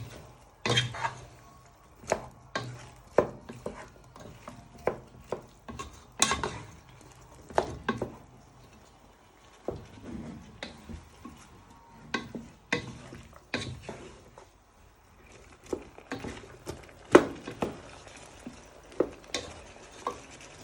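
Vegetables tossed and stirred in a pan with meat for a hotpot, irregular clanks and scrapes of utensil against the pan over a soft sizzle, with quieter stretches between the louder knocks.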